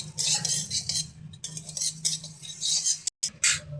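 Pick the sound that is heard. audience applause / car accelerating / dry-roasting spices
dry-roasting spices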